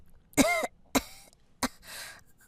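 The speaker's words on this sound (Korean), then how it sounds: "내가 기침이 심해서 같이 못 갈 것 같아." Three separate coughs come close and clear, each a harsh, short burst with a raspy tail, followed by a softer breathy throat-clearing sound.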